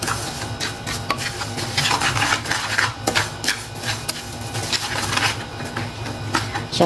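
Rice coffee being stirred in a pot, a steady scraping and swishing that keeps up close and fairly loud with small clinks, with no voices over it.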